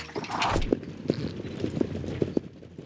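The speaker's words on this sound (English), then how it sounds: "Kicking up their hooves and charging out of the gate" Several spaced hoof clops of ranch horses charging out of a gate on firm ground, moderately near, with a brief burst of noise at the start; no talking.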